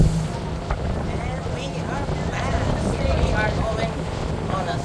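Boat engine rumbling out on the open ocean near Diamond Head, a steady low drone mixed with wind buffeting the microphone and splashing water, with voices faintly audible over it.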